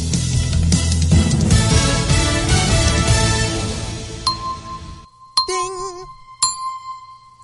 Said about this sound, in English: We got a bell in here.